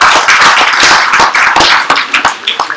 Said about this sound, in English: Please clap your hands for all of us.